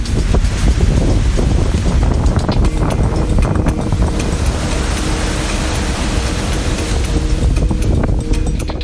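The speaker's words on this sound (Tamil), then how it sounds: "தட்சிண கன்னடா பகுதியில் கடற்கரையோரத்தில் கடும் சூறாவளி காற்றுடன் கடல் சீற்றத்துடன் காணப்பட்டது." Strong cyclonic wind and a rough sea pound the coast of Dakshina Kannada, a loud, continuous broadband roar with constant wind buffeting on the microphone and no pause.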